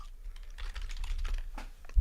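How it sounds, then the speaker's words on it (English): Rapid, uneven clicking of computer keyboard keys, fairly close, continuing for a couple of seconds without talk and ending with a soft thump. "we can hear you typing"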